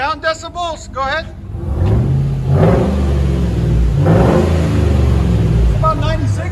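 Chevy Silverado HD 2500 6.0L V8 truck idling and revving through straight-pipe exhaust, a loud, steady low rumble with deep throbbing pulses and a couple of swelling revs, while people talk over it at the start and end.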